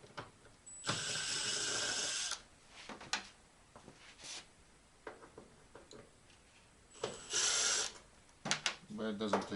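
A tool clicks and whirs in intermittent bursts while screws come out of a large Samsung 50-inch plasma TV panel, with short ratcheting runs and handling clatter between them.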